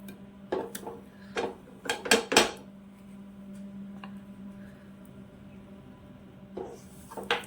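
Mawa for mava gujiya being stirred and sautéed in a pan, a spatula scraping and clinking against the metal in bursts of sharp taps, then a quieter stretch with a low steady hum before more scrapes near the end.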